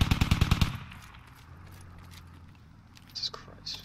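Rapid full-auto gunfire from a video game weapon rattles out in a tight burst of evenly spaced shots at the start, then gives way to quieter footsteps and faint mechanical clicks.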